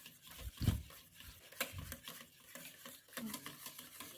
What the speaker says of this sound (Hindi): अब हम दही को अच्छी तरह से फेंट लेते हैं।